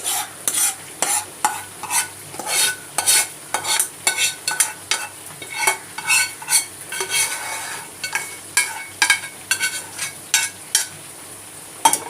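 A pot of soaked basmati rice being stirred together with roasted whole spices, repeated scraping and stirring strokes in a steady rhythm with a faint sizzle underneath, close and fairly loud, no talking.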